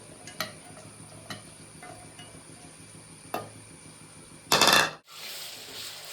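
Onions cooking in gravy in a pan for Kerala-style Kuttanadan duck roast, quiet steady simmer with a few sharp spoon taps on the pan, then a brief loud burst of sizzling.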